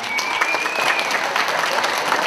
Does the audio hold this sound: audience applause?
yes